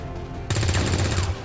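A rapid burst of rifle fire in XCOM 2: War of the Chosen erupts after a short lull, several closely spaced loud shots lasting about a second over a game soundtrack.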